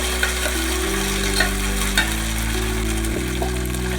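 Ground green kurma masala sizzles steadily in a hot pan with faint clicks of stirring, continuous and close, with no talking.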